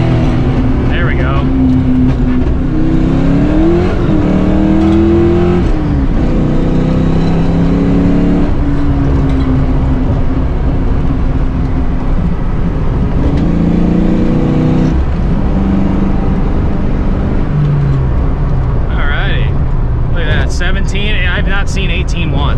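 A Ford Mustang Foxbody driving, its engine droning steadily and shifting pitch as it revs, with someone talking over it throughout.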